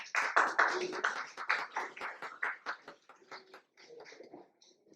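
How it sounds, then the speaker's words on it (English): Audience applause at a Sri Chaitanya NEET 2021 press conference honouring top students; dense clapping that starts strong and thins out over several seconds, moderately distant with a roomy sound. "a big round of applause for all our toppers present here"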